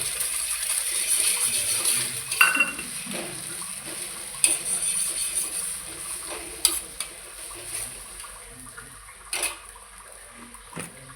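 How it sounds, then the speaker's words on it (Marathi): Beaten eggs tipped into a pan of cooked onion for an omelette and stirred in, giving a soft continuous sizzle broken by several sharp clinks of a spatula or spoon against the pan. "त्याच्यामध्ये मी ही अंडी टाकते आणि मिक्स करून घेते"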